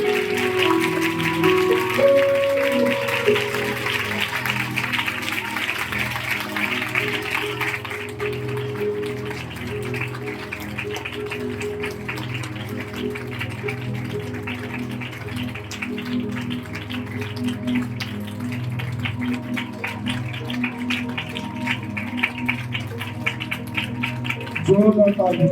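A church congregation applauds loudly and steadily at a Sunday meeting, a dense sustained clatter of hands that continues for a long stretch, mixed with background music and some voices.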